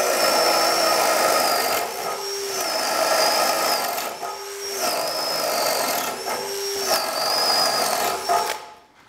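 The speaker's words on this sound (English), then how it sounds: "Speed 2 for a flat wood bit, and away we go." DeWalt cordless drill boring with an 18mm flat wood bit on speed 2, a whirring motor drone with a high whine that repeats in about four cycles and briefly dips in pitch as the bit bites into the wood, fairly close.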